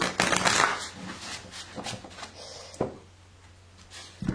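Tarot cards shuffled by hand in a quiet room, a steady papery riffling and flicking that comes in soft bursts, then slows to a few isolated snaps near the end.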